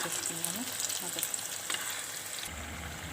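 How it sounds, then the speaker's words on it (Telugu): Pieces of cut flour snack fry in oil, giving a continuous bubbling sizzle at close range. A low murmur of voice or background hum runs faintly beneath it. "ఇవి కూడా చక్కగా రెండు వైపులా ఫ్రై చేసేసుకోవాలి చక్క మంచి రంగు వచ్చేదాకా ఫ్రై చేసుకుంటేనే టేస్టీగా ఉంటాయి"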